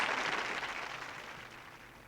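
Applause from a crowd of many hands in a video game, a dense, steady patter that fades gradually over two seconds, heard alone with no voices.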